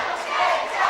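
A wrestling event crowd roars and cheers in an arena, a dense, loud wall of voices sustained through the brief moment.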